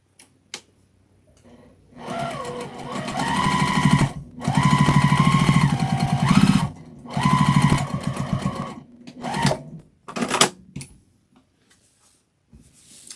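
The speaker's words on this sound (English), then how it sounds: "I'm just going to sew it from this edge to this edge." A sewing machine stitches a seam through fabric scraps for a mug rug, running in several bursts of steady rapid whirring and clatter, with pauses and clicks between runs.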